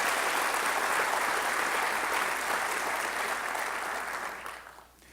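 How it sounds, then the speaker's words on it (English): A large audience at a mayor's development forum in Long Beach claps steadily in a dense, full wash of applause that fades out at the end. "So can we give them all a big round of applause and thank them?"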